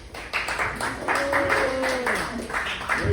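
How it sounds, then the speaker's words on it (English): Audience applause after a talk, steady clapping under a speaking voice throughout. "Another big round of applause"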